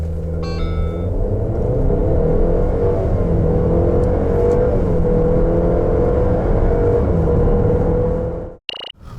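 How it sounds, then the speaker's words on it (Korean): A 2021 Cadillac XT4 accelerating hard from a standstill with its eight-speed automatic, engine rumbling and climbing steadily for about eight seconds, loud and close, then cutting off abruptly with a brief clunk at the end. "캐딜락 XT4 과연 발진 가속 성능 얼마나 나오는지 볼까요?"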